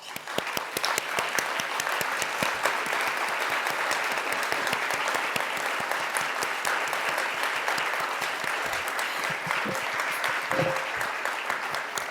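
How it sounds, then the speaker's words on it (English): Sustained audience applause at a tax section meeting as fellows stand to be thanked, steady and dense clapping from a large crowd throughout, fairly close and loud, with no talk. "please stand and we can all thank them with a round of applause"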